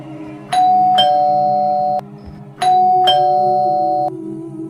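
A two-tone electronic doorbell chimes twice at a house's front door, each ding-dong ringing out clearly and sustaining for about a second before cutting off, with no talking.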